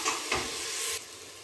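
Chopped ingredients fry in a pan with a steady, bright sizzle, close by and even throughout, briefly swelling as if stirred.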